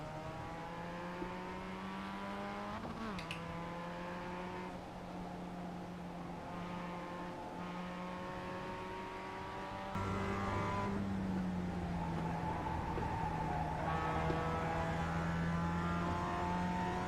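A Mazda MX-5 Cup race car laps Laguna Seca in a racing game, its engine droning close and steady, pitch rising and falling through gear changes and braking, one sharp shift partway through, with no talking.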